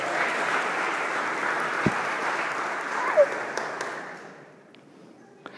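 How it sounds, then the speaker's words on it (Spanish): Applause from the audience at a church conference, a broad, sustained crowd clapping that gradually fades toward the end, with a few isolated knocks and small noises near the close. "Le damos un fuerte aplauso"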